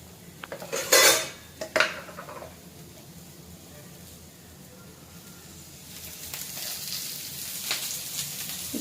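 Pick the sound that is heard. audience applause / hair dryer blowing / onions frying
onions frying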